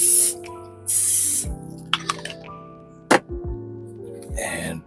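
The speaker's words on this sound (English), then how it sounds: "Add a little more spray." Cooking spray hisses onto a hot waffle iron for keto waffles, in three short bright bursts at the start, middle and end, over steady background music.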